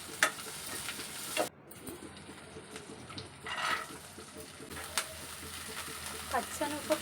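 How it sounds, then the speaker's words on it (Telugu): Coriander and curry leaves fry in a pan with a soft, steady sizzle and light stirring scrapes, fairly quiet, with a sharp burst of crackle partway through and a few brief spoken sounds. "కరివేపాకు కూడా బాగా ఫ్రై అవ్వాలి."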